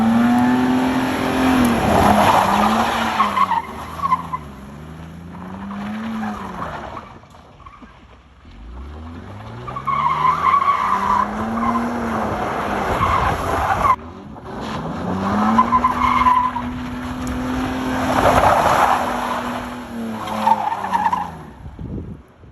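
A Mercedes 300d skids through a J-turn, its tires squealing in long rising and falling howls, loud and close, repeated across several passes with engine noise underneath.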